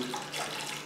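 Water streams steadily into a container while brewing a microbial tea for a deep water culture hydroponic system, a continuous close splashing pour lasting about a second with no talk.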